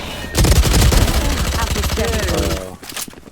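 Rapid bursts of gunfire from a Valorant esports match crackle loudly and densely, with a commentator talking excitedly over the shots.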